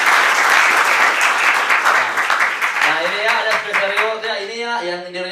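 Audience at a presentation bursts into a full round of applause that gradually thins out, while a voice starts speaking over the tail end.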